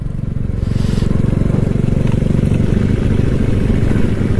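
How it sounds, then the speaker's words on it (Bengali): Motorcycle riding ahead on a foggy mountain road between Dirang and Tawang in Arunachal, a loud, close, continuous engine drone with a throbbing low rumble and no break. "আমাদের সামনে বাইকটা যাচ্ছে,"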